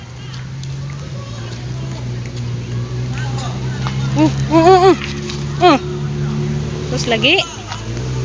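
A motorcycle engine runs close by with a steady, low drone throughout, while several people chat loudly over it.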